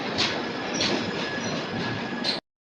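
An express train, the Bhavnagar–Kakinada Port superfast, rolls into Rajahmundry station with a steady broad rumble of wheels on rail and thin, high wheel squeals that rise and fade, ending abruptly.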